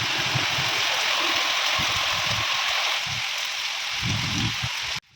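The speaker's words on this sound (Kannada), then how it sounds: "ನಮ್ಮೂರಲ್ಲೂ ಸಿಕ್ಕಾಪಟ್ಟೆ ಮಳೆ ಬರ್ತಿದೆ" Heavy rain pours down in H.D. Kote, Karnataka, a loud, dense, steady roar with deeper patters and splashes throughout, ending abruptly just before five seconds.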